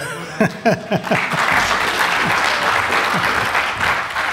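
An audience applauds warmly at a 40th birthday moment, opening with a few sharp claps and brief chuckles before settling into sustained, even clapping.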